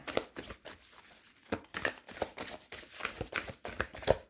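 Tarot cards are shuffled in quick, uneven bursts of riffling and soft slaps, repeating in clusters close to the listener with short pauses between.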